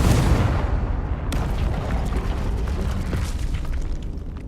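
Confringo fire spell blasting in the Hogwarts Legacy video game: a sharp explosive boom, then a second burst of crackling debris and rumble that fades out.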